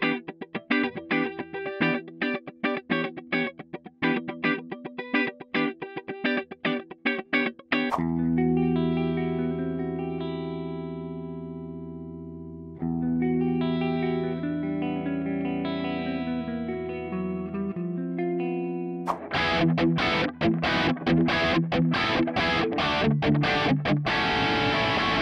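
Electric guitar played through a Mooer Micro Preamp pedal straight into an audio interface, alone with no talk: choppy distorted chords, then sustained ringing notes with chorus and reverb, then heavy driven strumming again.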